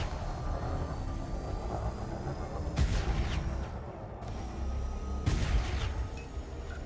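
Weapons firing during space combat in Elite Dangerous, heard as two separate bursts of muffled blasts over a steady low ship drone, with no voices.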